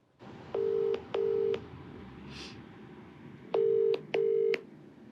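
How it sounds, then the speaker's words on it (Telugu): A phone number is dialed for a call: a series of clear keypad tones, two short pairs, then a pause and two more, over a low room hum. "నేను కాల్ చేస్తాను మేడం"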